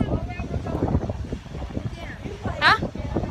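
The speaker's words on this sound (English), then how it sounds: "It's so windy." Gusty wind at a beach buffets the microphone with a low, steady rumble, while people talk nearby and a brief higher voice cuts through.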